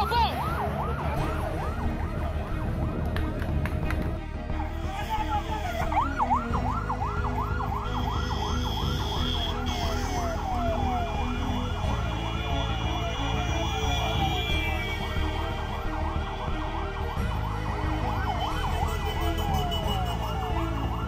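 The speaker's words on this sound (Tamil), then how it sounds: "ஆம்புலன்ஸை வேகமாக ஓட்டி வந்த தாமுமுக அமைப்பின் ஓட்டுநர் ஜாஸ்" An ambulance siren wails continuously with a rapid, warbling yelp as the vehicle speeds along a highway between Ramanathapuram and Pondicherry, loud and steady throughout over a low road rumble.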